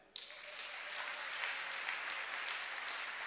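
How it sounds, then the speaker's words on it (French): A church congregation applauds steadily, a dense even wash of clapping that starts abruptly and holds at a moderate, slightly distant level throughout, with no voices over it. "Est-ce qu'on peut l'acclamer?"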